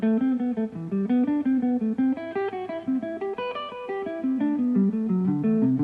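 An electric guitar works slowly through a triad exercise, each note picked distinctly in an even stepping pulse, with clear sustained tones and no voices.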